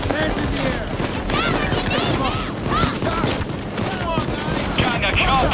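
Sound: explosions in the video game Payday 2

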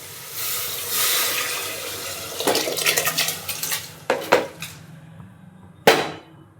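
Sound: water poured into pot of rice for mushroom biryani

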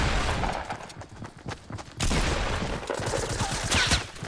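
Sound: pump shotgun firing in a video game (Fortnite)

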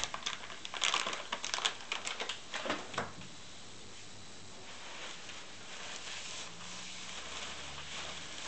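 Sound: sealed SKF spherical roller bearing being unwrapped

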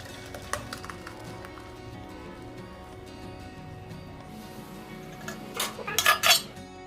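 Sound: cooked rice being poured into a strainer

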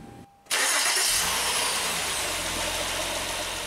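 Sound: Honda Accord 3.5L V6 car engine starting and warming up

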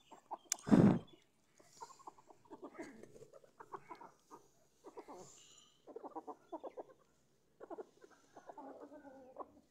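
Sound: black hens clucking while being fed roti

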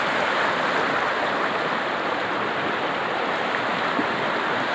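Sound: flash flood water flowing through a village stream

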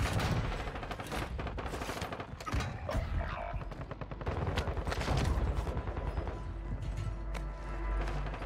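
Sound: gunfire from a Grau 5.56 rifle in a video game

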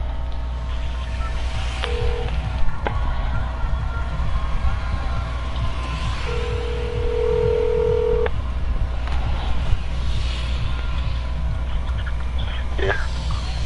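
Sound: phone number being dialed

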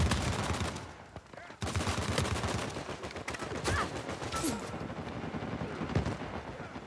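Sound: gunfire in Uncharted 4 multiplayer, a video game

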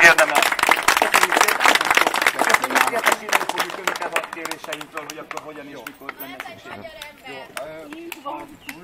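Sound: applause for the mayor

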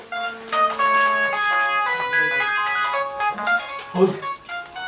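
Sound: phone ringtone ringing

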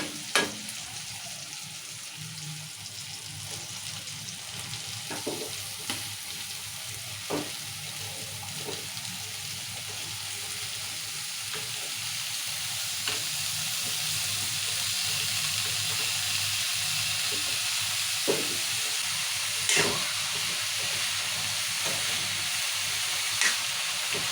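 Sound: bottle gourd frying in oil with tomatoes

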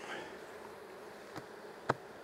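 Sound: bees buzzing around a beehive

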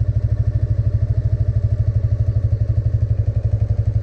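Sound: motorcycle engine in first gear as the clutch is released

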